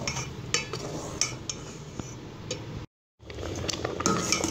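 A spoon stirs sugar and coconut into vermicelli kheer in a pot, giving soft scraping and light clinks against the metal, broken by a short silent gap.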